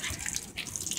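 Water splashes in quick irregular bursts as a dog plays in it, close and moderately loud, with no talk.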